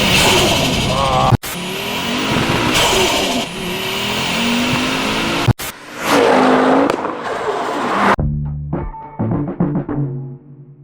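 A 520 hp Ford Focus RS Mk2 with a five-cylinder turbo engine roars hard and loud for several seconds through repeated gear changes and rising revs, then drops into choppy, lumpy bursts as it backs off.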